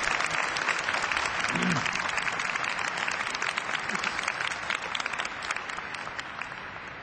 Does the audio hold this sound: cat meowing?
no